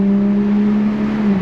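A 2021 Toyota Supra A91 Edition fitted with an AWE cat-back exhaust revs with a loud, close, steady droning exhaust note that holds a sustained pitch.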